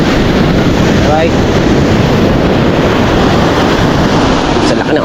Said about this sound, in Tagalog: sa laki ng alon, oh